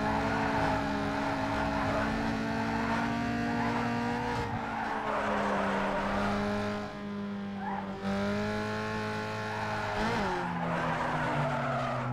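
A car drifts in Need for Speed Underground 2, sustained loud tire squeal layered over a steady, revving engine drone that shifts pitch throughout without pause.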